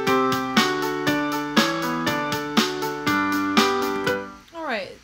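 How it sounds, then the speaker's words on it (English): Drum hits programmed in HookPad music software play alongside a synthesized song, with regular percussive accents in a steady rhythm under sustained chords, ending in a short sweeping tail. "So like, add in the drums, it's gonna sound like this."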